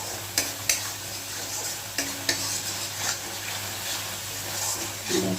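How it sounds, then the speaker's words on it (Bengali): Brinjal kofta gravy with a pinch of red chili powder sizzles steadily in a pan, with spatula stirs and scrapes breaking through a continuous frying hiss and a low hum underneath. "চলো কষিয়ে নিই এটা।"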